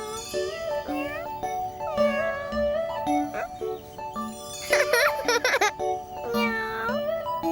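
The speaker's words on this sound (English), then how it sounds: "Cats say meow, and they purr." Cartoonish cat meows repeat near and clear, several drawn-out and rising calls with a burst of quicker mewing in the middle, over light musical tones.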